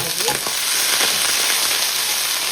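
Onions sizzle loudly in hot oil with cardamom and cloves, a dense, steady hiss heard up close and without pause for a few seconds.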